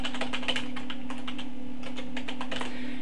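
Quick bursts of clicking keystrokes on a computer keyboard, close and crisp, irregular clusters of taps with a short pause midway and a faint steady hum beneath.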